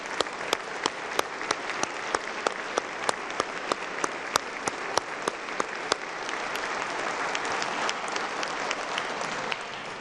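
Sustained applause fills a large hall during the 2020 West Virginia State of the State address, many hands clapping steadily at a moderate distance, with a few sharper individual claps standing out.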